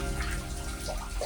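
Water drips from rocks into a small natural cave near Kelavali waterfall in Satara, soft irregular plinks and trickling over a faint wet background, close and quiet.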